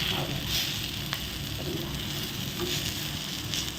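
Wheat bread slices, just flipped, fry crisp in a hot pan with a steady low hiss of sizzling throughout, and a faint tap or two near the start.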